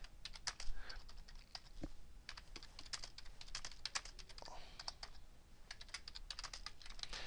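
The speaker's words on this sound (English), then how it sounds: "now I'm going to type space" Keys clatter in a steady, quick stream of soft clicks as someone types on a computer keyboard, close by but faint, with no talking.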